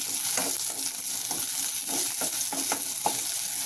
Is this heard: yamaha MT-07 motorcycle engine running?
no